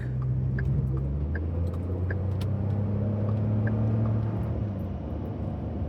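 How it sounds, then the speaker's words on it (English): A garbage truck rolls past on the road with a steady low engine rumble and droning hum, loud and continuous throughout, no talking over it. "Get past this garbage truck."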